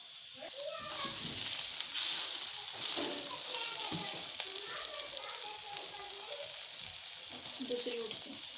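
Saag paratha frying in ghee on a hot pan just after being flipped, a steady close sizzle running throughout with a voice speaking intermittently over it.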